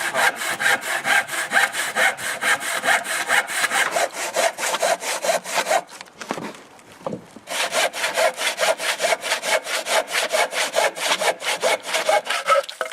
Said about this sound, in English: we'll take trusty old saw, and here we go. Nice steady movement here, back and forward.